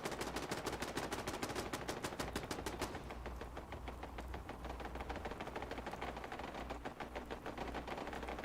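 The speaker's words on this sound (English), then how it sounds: "someone's using their 50 cal" Heavy .50 caliber machine gun fire in a Fallout 4 firefight, rapid continuous bursts that are loud and dense at first, then continuing as a steadier distant rattle, with no voices over it.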